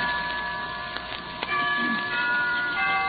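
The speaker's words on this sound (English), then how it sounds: "Why don't we both just sit here and listen to the chimes for a while?" Chimes ring steadily for a few seconds in an old radio drama, sustained bell-like tones over a faint ticking, with no talk.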